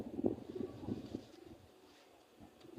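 Pigeons in a pigeon house cooing softly at close range, a few low, throaty coos in the first moments that fade into quiet.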